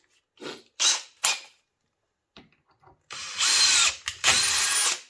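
A power tool cuts new thread into the holes of CNC sliders for a Kingsong S22 electric unicycle, running in short bursts: three brief spurts, a pause, then two longer whirring runs close up.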